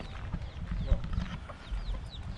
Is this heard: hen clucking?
yes